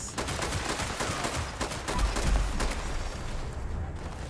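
Rapid, dense gunfire crackles continuously from a video game, close and loud throughout, with a heavier low rumble swelling in the middle before thinning out toward the end.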